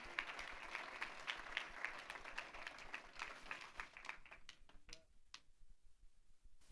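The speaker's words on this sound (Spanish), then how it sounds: "Denle un fuerte aplauso al Señor" A church congregation gives a round of applause, a quiet, steady patter of many hands that thins out toward the end, leaving a few scattered claps.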